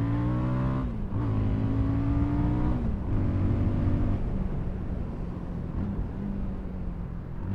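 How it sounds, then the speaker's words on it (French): A Fantic Caballero 500 scrambler motorcycle with a single-cylinder engine is being ridden, its engine droning steadily and rising in pitch through gear changes, loud and continuous with wind noise and no talking. "Alors c'est un moteur qui est sympa, mais c'est pas le mono qui va vous donner le plus de sensations par rapport au plus gros mono."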